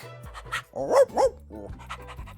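A dog pants and gives a couple of short barks close by, quick breathy huffs around two louder yips.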